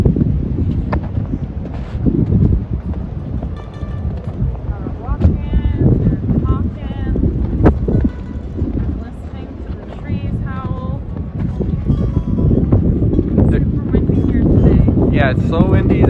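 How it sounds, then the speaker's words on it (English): Strong gusts buffet the microphone on a hiking trail at Louth Conservation Area along the Bruce Trail in Niagara, a constant roaring rush under steady conversation between hikers. "it's so windy that they actually issued, what was it called? Like a special weather alert?"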